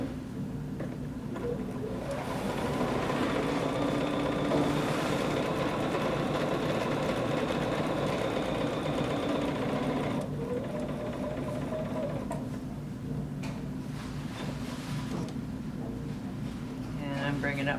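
A sewing machine runs steadily and close while drawing up bobbin thread on a June Taylor quilt-as-you-go table runner. Its motor whirs for a long stretch, briefly dips, then resumes, with a person talking quietly over it.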